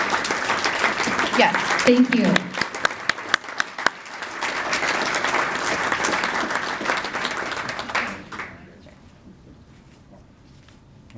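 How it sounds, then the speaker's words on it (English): Applause at a volunteer recognition reception, a full round of crowd clapping that fades out toward the end, with a brief spoken thank-you over it. "please, a round of applause"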